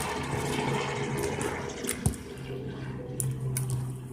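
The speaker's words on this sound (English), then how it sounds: "I added a little bit of water" Water runs and gushes for a few seconds while being added to a batch of slime, a steady splashing flow with a sharp drip or clunk midway, alone with no talk.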